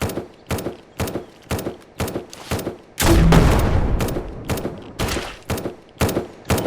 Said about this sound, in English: Let's grab our grenade launcher.